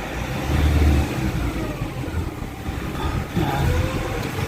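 A Nissan Calibre with throttle delay and a transmission humming fault revs nearby, a low rumbling engine note swelling twice and holding a steady drone between, with no talking.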